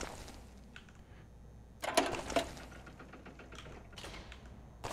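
A dungeon door grinds open in the fantasy game Legend of Grimrock II: a short, rough mechanical burst in the middle, set against low, steady game ambience with faint clicks around it.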